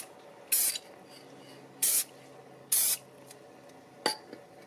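Krylon Triple-Thick Crystal Clear Glaze sprayed from an aerosol can outdoors on a windy day: three loud, separate bursts of hissing spray, about a quarter second each, then a single sharp click near the end.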